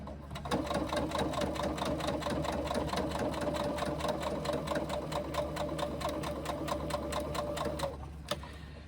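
Sewing machine running steadily while stitching a baby sling seam, a fast, even, continuous mechanical chatter at close range that stops abruptly near the end, followed by a single click.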